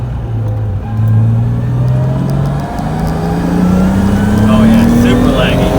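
Nissan 240SX with an RB20 engine fitted with an RB25 turbo accelerating under load, a steady engine drone rising gradually in pitch as revs climb through a late-spooling pull, recorded from inside the car at close range with a voice over it.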